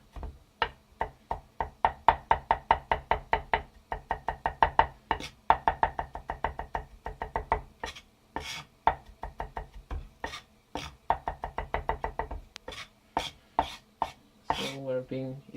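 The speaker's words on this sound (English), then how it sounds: "Give it a nice chop." Knife chopping eggplant finely on a cutting board in a home kitchen, a long run of quick, steady close taps in bursts with brief pauses, loud and clear, no talking.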